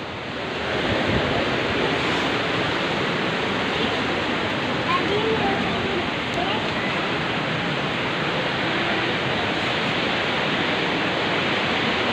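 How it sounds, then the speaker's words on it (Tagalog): A waterfall spills down from the mountain at Wawa Dam in Montalban, Rizal, giving a broad, steady roar of rushing water that fills the scene at moderate distance, with people talking faintly beneath it. "yung falls galing sa bundok"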